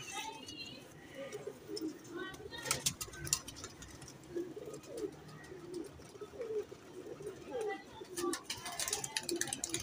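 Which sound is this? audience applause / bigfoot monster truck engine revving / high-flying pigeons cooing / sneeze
high-flying pigeons cooing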